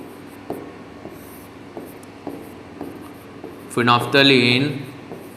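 Several separate strokes of writing a line on a board in a Hindi-language Class 10 science lesson on phenolphthalein, spaced about half a second apart, then a teacher's voice speaking near the end.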